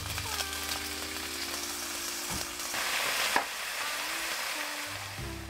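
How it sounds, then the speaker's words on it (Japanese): Ginger pork shogayaki frying in a pan: a steady sizzle of meat in oil with a brief clatter of stirring midway, close and moderately loud, under soft background music with no talking. "今日は生姜焼きを作っております"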